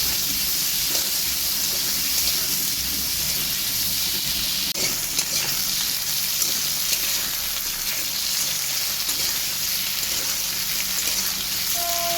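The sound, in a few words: potatoes frying in fish oil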